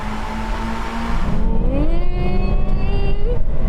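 A Honda S2000, a supercharged GT86 and an MX-5 accelerate hard side by side in a rolling drag race, loud close engine roar with a rising tone as revs climb, no talking.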